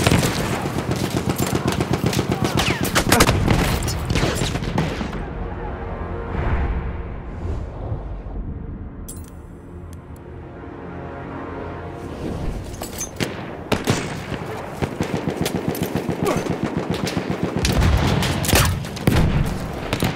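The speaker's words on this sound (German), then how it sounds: "Maschinengewehr, eindeutig feindlich!" Rapid machine gun fire from Battlefield 1 team deathmatch play, dense bursts of shots and booms that rattle loudly, ease to a quieter lull near the middle, then return in heavy, continuous volleys.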